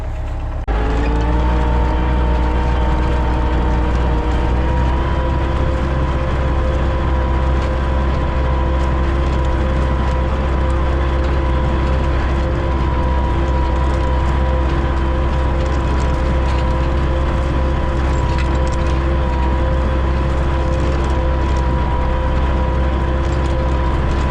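A tractor pulls a disc harrow with a chopping roller through a foggy field, its engine droning loud and steady throughout with a sustained strained mechanical hum, no talk.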